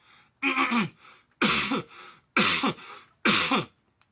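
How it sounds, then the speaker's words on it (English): Four loud, rasping throat clearings in a row, evenly spaced with short silences between, close and alone. "Gotta clear my throat."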